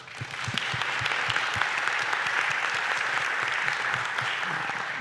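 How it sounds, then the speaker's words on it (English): Steady applause from a weekly meeting audience, dense, even clapping that continues for five seconds without talk. "let's give him a round of applause"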